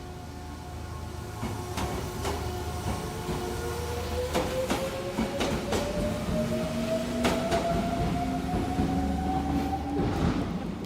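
A train passes on a late-night walk, a steady rumble with rhythmic clickety-clack wheel beats and a long rising squeal, loud and close throughout.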